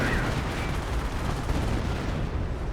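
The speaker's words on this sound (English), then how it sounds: "Got some artillery running on here." Artillery fire in Company of Heroes 1, a dense, continuous roar of distant shelling and gunfire with a heavy low rumble that stays steady and loud throughout.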